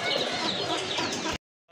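Pigeons in a loft call together in a dense, continuous burst of cooing and fluttery bird sounds, close and fairly loud, ending abruptly.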